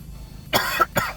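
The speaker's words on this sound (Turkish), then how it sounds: "Video çekince neredeyse öksürük tutuyor" Two sharp coughs in quick succession, close and fairly loud, with a short gap between them.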